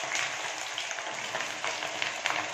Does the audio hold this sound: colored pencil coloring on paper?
no